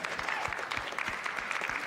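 An audience gives a round of applause for a homeschool alumna, a moderate burst of clapping from a modest crowd with distinct individual claps, fairly faint and steady throughout.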